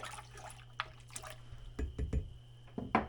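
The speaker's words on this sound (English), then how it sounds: "Let's give this a little stir." Warm milk is stirred in an Instant Pot inner pot for homemade yogurt, with soft liquid sloshes and a few spoon knocks against the pot, close and quiet, with no talking.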